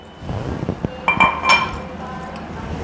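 Two tomatoes dropped one after another into a mixer jar already holding chillies, with light clinks and knocks against the jar over soft background noise.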